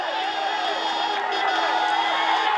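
A roadside crowd cheers along the route of a Tour de France stage, a steady roar of voices and whoops that stays loud and unbroken throughout.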